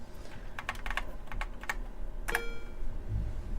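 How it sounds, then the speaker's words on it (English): Keys on a NABU computer keyboard, including the page key, are pressed in a quick, irregular string of crisp, close clicks over a low background hum, with no talking. "So when I press the page key on that one, then it just goes in another direction."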